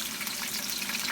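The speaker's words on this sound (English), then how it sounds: "The oil is hot. I'm going to be adding my onions." Onions go into hot oil in a pot for village-style jollof rice, giving a loud, steady sizzle and crackle with no pauses and no talking.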